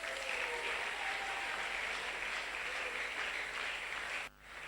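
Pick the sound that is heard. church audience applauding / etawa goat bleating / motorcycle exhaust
church audience applauding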